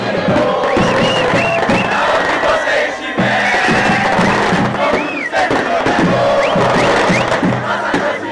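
A large esports crowd at the CBLOL League of Legends final cheers and chants loudly and continuously, with rising whoops, shouts and waves of roaring applause.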